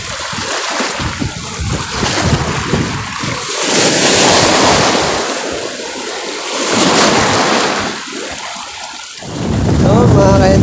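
Strong waves on Laguna lake at Barangay Tadlac, Los Baños, crashing and surging in loud rolling bursts with wind rushing over the microphone, rising and falling several times, a voice briefly audible at one point.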